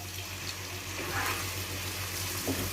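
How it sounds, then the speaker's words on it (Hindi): About half a glass of water is poured into frying masala, a short wet splash and gush over the ongoing sizzle of the pan, close and brief. "थोड़ा सा पानी ऐड करूँगा"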